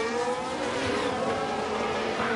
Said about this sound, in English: You love the sound of the cars?